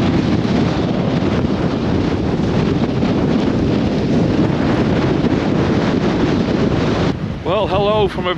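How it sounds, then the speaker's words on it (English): Roaring, gusting storm wind batters the microphone nonstop on the Lake Erie shore at Crystal Beach, with a surging rush of waves beneath; near the end a voice briefly speaks over the dying gust. "the storm is now just starting to intensify down here"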